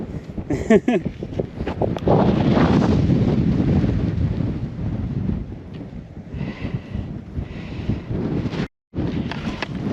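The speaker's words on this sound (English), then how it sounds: "The wind is already blowing off my peat moss" Wind blowing outdoors at a coyote trapping set, loud buffeting gusts on the microphone with rumble and brief rustles, mostly alone with a short dropout near the end.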